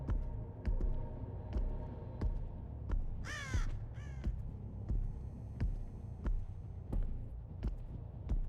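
Crows caw in the game Dead by Daylight, two quick bursts of harsh cawing in the middle, surrounded by steady low ambient rumble and a series of regular sharp knocks.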